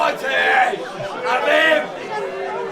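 Crowd chatter fills a floodlit London rugby sevens match, a dense babble of many voices swelling and easing in waves nearby, with no single voice standing clear.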